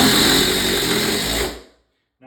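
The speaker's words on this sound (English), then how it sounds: "So I'm gonna screw this bottom plate through into the floor." A power driver sinks a screw through a wall's bottom plate into layered plywood flooring, a loud, continuous whirring drone lasting about a second and a half that winds down to silence, then briefly starts again.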